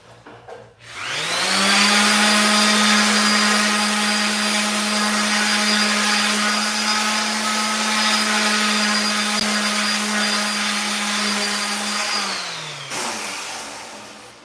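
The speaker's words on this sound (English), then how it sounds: "I'll just sand it." A power sander runs on a wooden trim box for a fuse panel, starting up into a loud, steady motor whine with a constant pitch, then spinning down near the end, no talk.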